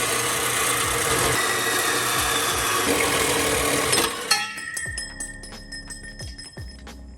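An exhaust pipe for an Acura TLX Type S straight-pipe build is cut into angled slices with a loud power saw that grinds steadily for about four seconds, then stops abruptly, leaving metallic ringing and a few clanks.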